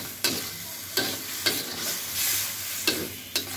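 Potato and fish head mixture being stirred in a pan for aloo ghati, a spoon scraping in five or six distinct strokes over a faint sizzle, close and alone.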